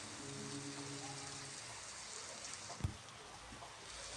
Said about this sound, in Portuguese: Tamo ferrado, tá chovendo.